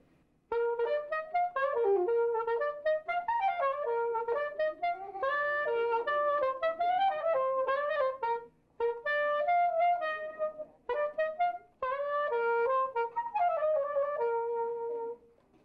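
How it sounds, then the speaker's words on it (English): A soprano saxophone plays a lively solo melody with bright, reedy tone, phrases separated by brief pauses, clear and close. "this is the soprano saxophone, and it sounds like this."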